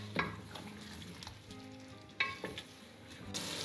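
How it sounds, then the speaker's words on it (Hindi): Potatoes frying in ghee and masala for aloo matar in a pan, a steady soft sizzle with a few stirring clatters and a brighter burst of hiss near the end. "इस स्टेज पे मैं ये आलू डाल दूंगी और आलूओं को थोड़ी देर तक भुनूंगी।"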